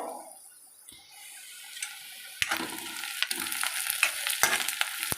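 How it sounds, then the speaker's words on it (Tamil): Vegetables sauté in a pan for a vegetable gravy, a soft sizzle building into crackling frying with scattered clicks of stirring, close and without speech. "பார்த்தீங்கன்னா இது நல்லா வதங்கி வந்துட்டு இருக்கு இல்லையா"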